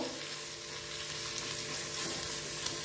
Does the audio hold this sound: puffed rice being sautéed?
yes